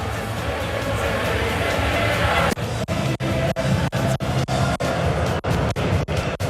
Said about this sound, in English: The crowd in good voice here in the Chiemgau Stadium.